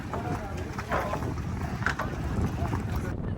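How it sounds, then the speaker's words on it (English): A motorboat engine drones steadily on open water near Qeshm Island, Iran, with rushing wind and water noise, loud and continuous from start to finish. "Now we are taking the boat to the next island, which is Qeshm Island."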